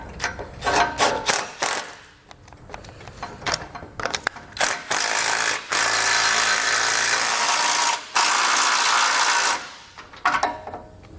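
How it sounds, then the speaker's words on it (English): A ratchet with a 17mm socket tightening bolts while installing a tow base plate kit, bursts of rapid clicking ratchet strokes with short pauses between them, close and fairly loud. "we're going to be using a 17mm socket"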